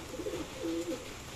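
A young racing pigeon gives two soft, low coos in quick succession, close by and fairly quiet over faint background noise.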